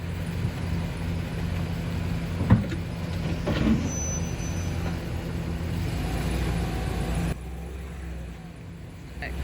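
A truck is manoeuvring and backing up at a campground during an RV setup, its engine rumbling steadily and close by with a brief sharp knock partway through, while people talk in the background.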